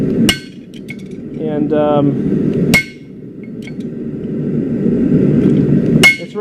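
Hammer striking a steel chisel while forging a decorative leaf key chain pendant: three sharp, loud metallic blows spaced a few seconds apart, with a faint ringing tap and low hum between strikes and a brief word spoken.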